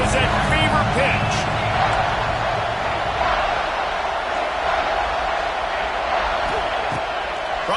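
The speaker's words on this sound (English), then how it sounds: "this crowd is at fever pitch" Dense, loud roar from a college football stadium crowd, Penn State vs. Texas, during a third-down red-zone play, sustained throughout with a steady wash of noise.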